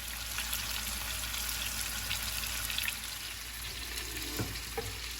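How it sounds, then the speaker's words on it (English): A venison roast sears in a mix of olive oil, canola oil and butter, giving a loud, constant crackling sizzle with a few faint clinks near the end. "So as we're searing it, what I like to do is lift it up."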